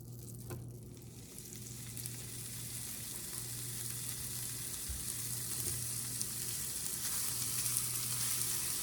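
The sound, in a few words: burger patties sizzling as they cook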